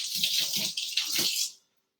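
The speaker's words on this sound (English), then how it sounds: "I'm going to rinse my fingers so that I don't do that." Running tap water splashes over fingers being rinsed in a kitchen sink, a close, steady gushing rush that stops abruptly after about a second and a half.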